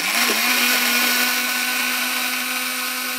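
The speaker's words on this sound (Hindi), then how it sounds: "अब हम इसको ब्लेंडर को चलाते हैं अच्छी तरह से" A blender whirs at high speed blending yogurt, a loud steady motor drone with a constant pitch, running alone without voices.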